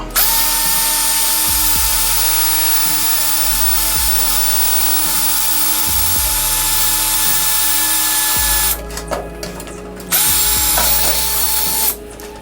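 A power drill whines loudly and continuously while drilling a hole in a socket organizer tray, its pitch dipping several times as the bit bites, then briefly stopping and restarting near the end.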